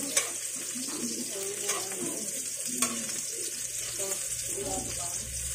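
Onions sizzling in a hot frying pan, a steady crackling hiss with a few sharp clinks of utensils, close and moderately loud beneath someone speaking.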